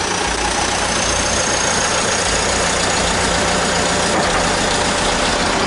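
A Caterpillar CAT 428D backhoe loader's diesel engine idles in a loud, continuous, even rumble with a slight knock, heard alone without any talk.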